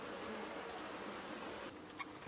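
Honeybees from a horizontal hive hum in a steady, dense drone with no pauses, close and fairly faint, with no voices over it.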